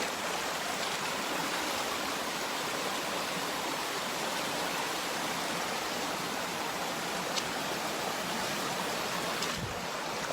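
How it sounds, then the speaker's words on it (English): A creek flows through the woods, a loud, steady rushing and splashing of water that fills the whole stretch with no other sounds on top. "It sounded like a person's voice, but it's just the creek."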